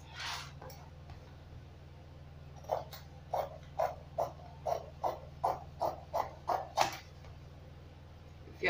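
Scissors cutting fabric for a pleated drape, with a steady run of about a dozen rhythmic crunchy snips at close range, preceded by a few softer rustles and no speech.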